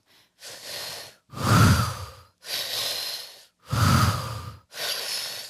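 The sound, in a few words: slow exhale during guided breathing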